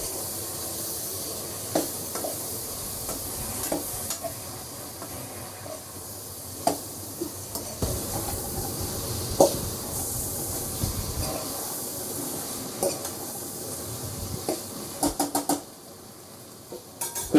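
Lotus stem (kamal kakdi) sautéing in a pan, with a steady close sizzle and hiss broken by scattered metallic clinks as a spoon or spatula stirs and scrapes; no one speaks.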